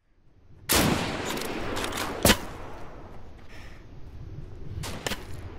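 Gunfire in the survival shooter Deadside, a loud broadband blast near the start and another sharp report around the middle, then scattered fainter cracks late in the clip over steady outdoor ambience.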